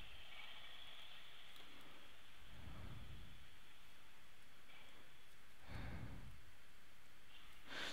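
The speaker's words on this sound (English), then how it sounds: "Oh no, it's raining." Rain and thunder in the video game Minecraft: a constant soft hiss of rainfall runs throughout, broken by two deep rumbling thunder swells a few seconds apart, with no speech.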